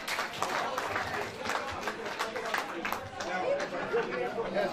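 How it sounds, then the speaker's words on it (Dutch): Applause and chatter from a crowd at a carnival event, steady clapping mixed with lively voices throughout, with brief shouts rising above the noise. "Ik zou zeggen, mensen, geef hem nog een naverend applaus."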